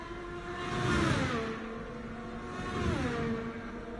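A racing car on a wet track during a session sweeps past with a rising then falling engine whine, and a second pass follows, both at moderate distance.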